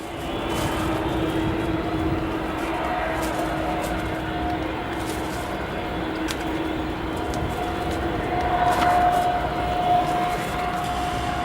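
Boeing 757 jet engines spooling up at O'Hare Airport, a steady distant roar with a rising whine over continuous airport background, no talk.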